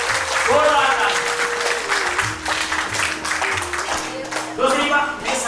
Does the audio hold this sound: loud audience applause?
yes